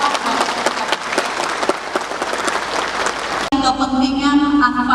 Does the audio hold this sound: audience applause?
yes